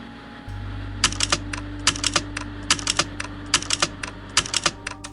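Keys clatter on a computer keyboard in the video game Dead Letter Dept., close and distinct in quick uneven bursts with short pauses, over a low constant background hum.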